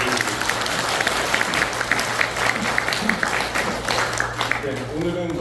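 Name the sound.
congregation applauding in thanks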